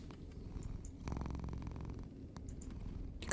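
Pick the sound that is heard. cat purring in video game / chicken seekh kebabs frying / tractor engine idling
cat purring in video game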